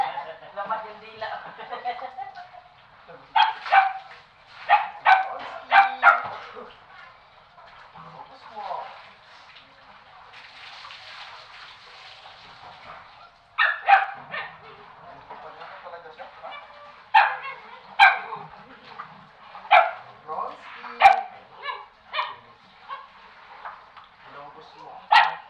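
A dog barks in repeated bursts, some quick and clustered, with quieter gaps between, close by and somewhat thin in tone.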